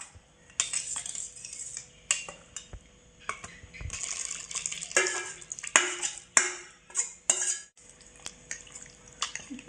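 Plum cake batter being mixed with sugar in a bowl, a utensil clinking and scraping in quick irregular strokes, close and fairly crisp, with brief pauses between bursts.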